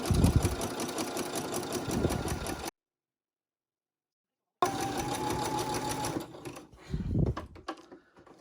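A sewing machine runs steadily, stitching a fabric seam with a half-inch allowance, in two close, continuous bursts of whirring separated by a few seconds of silence; the second burst trails off into slower, uneven stitching.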